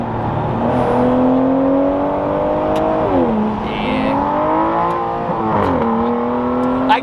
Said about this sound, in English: I keep hitting the red line because there's no red line.